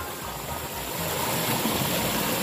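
A mountain-water stream flows back into a river near where it meets the sea, giving a steady, close, broadband rush and hiss that swells slightly louder midway and continues without pause, with no voices over it.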